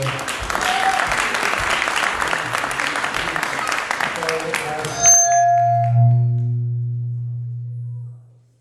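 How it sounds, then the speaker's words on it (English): An indoor audience at a Diwali celebration in Belfast applauds steadily for about five seconds, clapping dense and fairly close, then stops as a sustained low electronic tone rings on alone and fades away. "Yeah, another round of applause, ladies and gentlemen."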